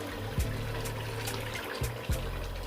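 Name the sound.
half glass of water poured into chicken biryani pot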